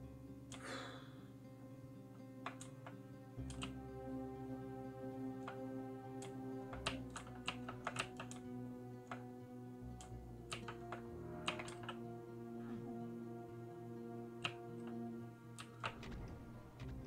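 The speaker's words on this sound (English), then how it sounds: "I like the sound of this keyboard." Clicky computer keyboard typing, a steady run of sharp key taps in irregular bursts over a sustained droning hum from a Doom 2 game in the background.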